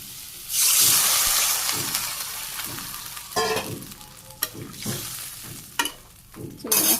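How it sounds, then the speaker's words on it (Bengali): Vegetables seasoned with turmeric, chili and salt fry in a pan, giving a loud burst of sizzling followed by repeated scraping stirs and crackles, with no talking. "কষানো সবজি কষানো হয়ে গেছে"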